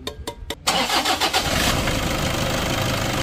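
A Toyota Innova, with engine flush mixed into its old oil, cranks in a few rapid turns, then fires up and settles into a loud, steady idle close by.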